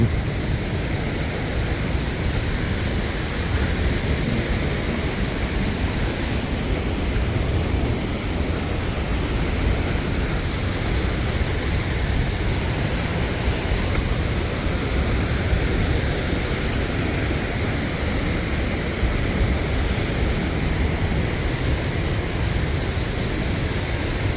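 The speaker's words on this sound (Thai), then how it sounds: "ก็อยู่บริเวณหน้าน้ำตกนะละอองจะเยอะซะหน่อย" Tad Xekatam waterfall in Champasak, Laos, roars as a constant broadband rush of falling water, loud and close, unbroken throughout with no voices.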